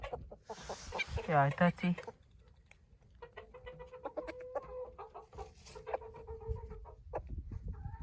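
Yellow-and-black Columbian-pattern chickens, including a deep-red-combed rooster, cluck and murmur close by in a pen, a soft run of short calls, while someone briefly speaks over them.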